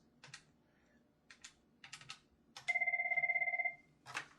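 Keys click on a VoIP desk phone in an office as a call is placed, with several quick button taps followed by a steady pulsing ring tone lasting about a second, then another tap.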